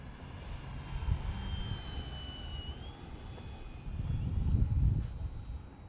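A model airplane engine drones in flight with a thin whine, swelling louder as it passes closer near the end.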